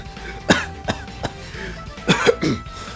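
A man imitates an old fighting-game character coughing, several short, rough, throaty coughs in quick bursts, close and fairly loud, with a few spaced pauses between them.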